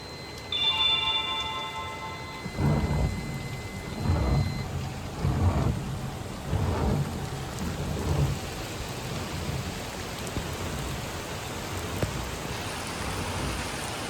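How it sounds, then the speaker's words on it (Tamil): Heavy rain pours steadily near a truck container at a loading site while several deep rolls of thunder rumble one after another, with no talking. "மறுபடியுங்க மழை ஸ்டார்ட் ஆயிடுச்சு."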